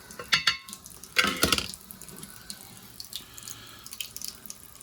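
Water from a rain gauge splashes and trickles into a small measuring cup in a couple of short pours, followed by faint drips and clinks.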